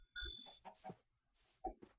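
A Minecraft chicken clucks in a few short, close bursts spread over about two seconds, with quiet gaps between the calls and no talk over them.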